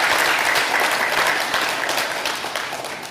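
Steady crowd applause fills an Ontario PC Party campaign event in Pickering for leader Doug Ford in 2022, dense and loud throughout and tapering slightly toward the end.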